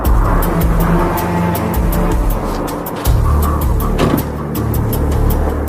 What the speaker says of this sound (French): Vers 3 heures du matin, un véhicule s'arrête devant son habitation.